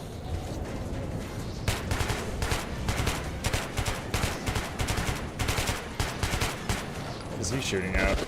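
Rapid bursts of gunfire in the video game Metro, a dense, steady stream of loud overlapping shots with sharp repeated cracks over a rumbling background, continuing for several seconds.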